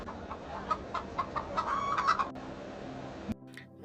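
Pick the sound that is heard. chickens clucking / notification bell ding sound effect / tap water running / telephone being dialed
chickens clucking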